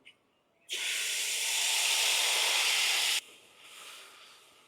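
Wet masala paste for a hotel-style veg gravy hits hot oil with whole spices in a pan, bursting into a loud, steady sizzling hiss for about two and a half seconds before dropping to a softer crackle.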